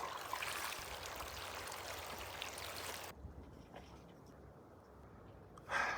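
Well water pours into a glass jar in a steady hissing rush for a few seconds, then drops to a softer trickle, with a brief clunk at the end.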